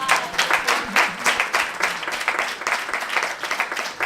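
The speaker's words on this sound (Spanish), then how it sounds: "grande, un aplauso por favor para la Charo Martínez," Audience applause at a poetry event in Spain, steady dense clapping from a crowd lasting the full stretch with a slightly uneven rhythm, fairly loud and with no other sound on top.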